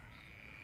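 Frogs and toads croaking at night, a faint continuous chorus of distant calls over quiet background.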